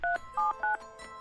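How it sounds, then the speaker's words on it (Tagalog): Telephone keypad dialing tones: three crisp, loud beeps at an even rhythm, followed by a fainter fourth tone, with quiet background in between. "susubukan kong tawagan si Romnick"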